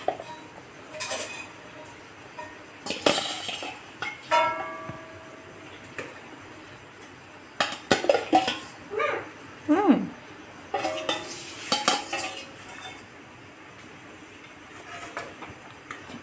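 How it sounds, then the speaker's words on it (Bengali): Hill prawns dropped into a pot of boiling water, a series of close clinks, knocks and splashy clatters of metal utensils coming in bursts over a quiet background. "জলটা ফুটে উঠেছে, এখন চিংড়িগুলো দিয়ে দেব।"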